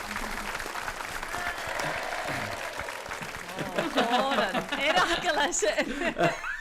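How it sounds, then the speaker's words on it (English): A crowd at a ceilidh in Taynuilt breaks into applause mixed with chuckles and laughter, building louder in the second half, while people talk over it. "And the crowd goes wild."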